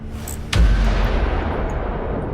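A long-range spaceship weapon in the game Fractured Space fires once with a sharp heavy boom, followed by a long rumbling decay that fills the rest of the moment.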